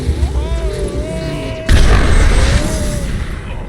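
A concussive shot blast in the video game Mass Effect 2, one sudden heavy boom that hits hard partway through and then rumbles on, following a stretch of quieter in-game sound.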